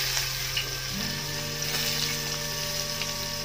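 Curry leaves drop into hot oil already holding cumin, asafoetida and mild green chillies, setting off a steady close sizzle and crackle with no talk.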